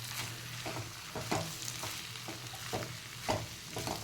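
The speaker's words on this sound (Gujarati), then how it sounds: "હવે આપણે એને બરાબર મિક્સ કરી લઈશું." A spoon stirs bitter gourd curry with hot chili and Kashmiri chili powder in a frying pan, giving quiet scraping strokes at an irregular rhythm over a low, constant sizzle.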